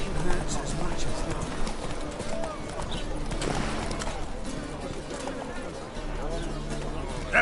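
Roach the horse galloping in The Witcher 3, a steady run of hoofbeats close by, mixed with ambient game sound, with a voice speaking over part of it.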